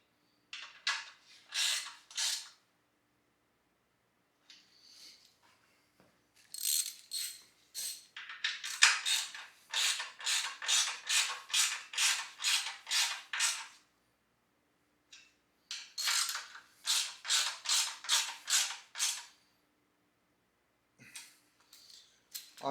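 Ratchet straps being cinched down on a sprint bike, heard as bursts of rapid, crisp clicking in several separate runs, each lasting a few seconds, with quiet gaps between them and no talking.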